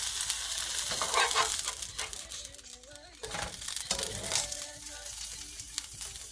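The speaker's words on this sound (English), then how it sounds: "I let it cook a little bit for about 30 seconds each side, just to make sure it's extra crispy, but you can even hear it's nice and crispy" Birria quesa taco crisping in a hot pan, loud crackling sizzle and frying spatter throughout with scraping stir sounds, close and continuous.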